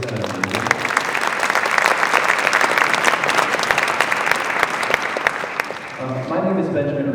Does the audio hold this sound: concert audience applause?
yes